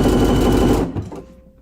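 A sewing machine stitching at speed in a rapid even clatter, close and loud, then stopping abruptly with a few faint mechanical clicks trailing off.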